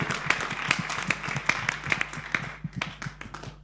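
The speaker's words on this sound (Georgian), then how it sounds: "აპლოდისმენტები გთხოვთ" Audience applause after a sponsor thank-you at a live fight event, with steady, moderately loud clapping and a few sharp claps standing out, tapering off toward the end.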